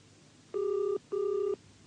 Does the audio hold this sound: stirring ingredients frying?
no